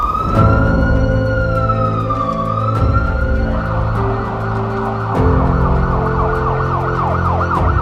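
A loud ambulance siren of an emergency medical service wails nearby, its pitch sweeping up and down before switching to a faster warbling pattern over traffic rumble.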